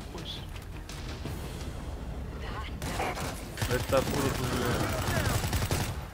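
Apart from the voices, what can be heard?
gunfire in the video game World War Z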